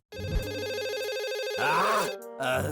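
A phone rings with a repeating electronic ringtone, steady and close, with the pattern shifting partway through and a brief pause near the end.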